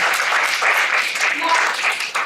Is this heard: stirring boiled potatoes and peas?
no